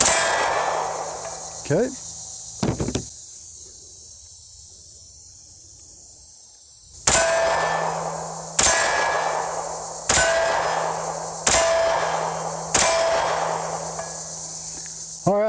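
Single shots from a Tisas PX-9 Duty Comp pistol ring out at an outdoor range: two sharp reports, a pause, then five evenly spaced loud blasts, each with a metallic ring, under steady insect hum, with a brief spoken word.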